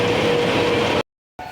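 The Amrapali Express rumbles past on an opposite track near Bhadan station, a dense, loud, close clatter lasting about a second before cutting out abruptly.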